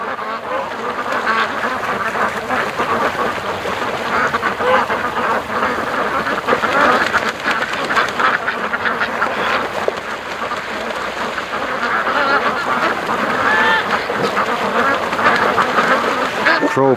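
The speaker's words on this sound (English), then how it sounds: "when the ducks are like this out on the lake" Ducks quack out on a lake, a lively, continuous chorus of calls close by, with steady outdoor background and little else.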